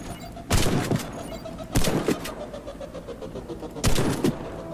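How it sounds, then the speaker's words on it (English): Three heavy, booming shotgun blasts from a medic class weapon in the Warface shooter game, spaced about a second and two seconds apart, each with a loud sharp onset and a short ringing tail over steady low background rumble. "As a medic, you come armed with a shotgun."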